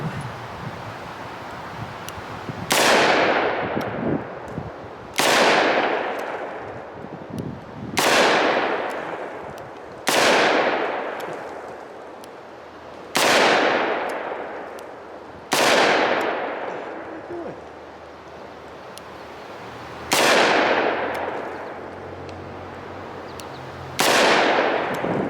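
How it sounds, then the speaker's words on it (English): Loud single shots from a Smith & Wesson 627 Performance Center revolver at an outdoor range, about seven sharp reports spaced a few seconds apart, each with a long decaying echo and light wind noise between. "I'm going to show you what the gun is like when I'm actually shooting it"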